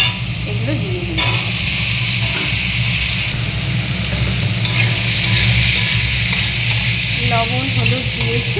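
Fish heads with onion and ginger fry in a wok, a loud steady sizzle running throughout with scraping stirring strokes and a brief voice near the end.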